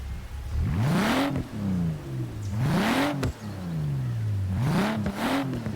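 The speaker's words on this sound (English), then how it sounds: "So let's have a listen to this M2." A BMW M2 twin-turbo engine revs in neutral, three loud sweeping blips climbing sharply in pitch and then easing back down to a smooth idle between them, heard up close.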